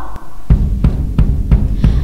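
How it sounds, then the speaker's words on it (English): A drum struck five times at an even, steady pace, each hit a loud, low, punchy thump with a short decay, heard alone with no talking. "hitting a drum"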